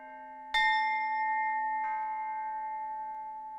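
A single large church bell, cast bronze and weighing tons, is struck twice, each ring a bright clang followed by a long sustained humming decay, clear and alone.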